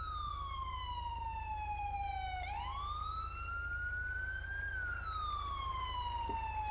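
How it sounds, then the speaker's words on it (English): Police car siren in the GTA 5 video game, a loud continuous wail sweeping down, up and back down in long smooth glides over a low engine hum, with no talk. "You can shut off the sirens now."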